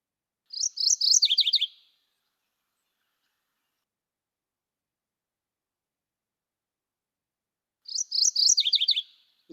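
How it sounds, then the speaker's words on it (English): Mourning warbler calling, a short bright chirping phrase of rapid descending notes, heard twice about seven seconds apart against otherwise silent surroundings. "As an example, this is the call of the morning warbler."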